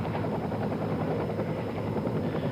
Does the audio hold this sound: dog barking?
no